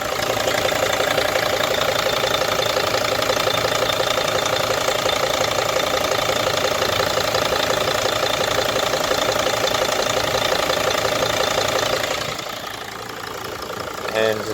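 A 2006 Mercedes T1N Sprinter diesel idles up close with a steady, loud mechanical clatter and a continuous high whistle from a leaking turbo, holding even for about twelve seconds before dropping away suddenly.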